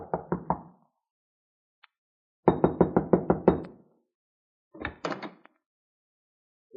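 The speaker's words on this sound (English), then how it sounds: "there was nothing for me to do except knock" Knuckles rapping on the locked wooden door of a small rented shack in an old frontier town: a short burst of three knocks, a longer run of about seven firm knocks, then a few softer raps. The knocking is loud and close, with no voices.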